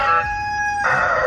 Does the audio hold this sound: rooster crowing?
yes